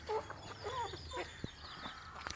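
Free-range country chickens and roosters in a coop, soft clucking calls in short bursts, faint and close, with a sharp knock partway through.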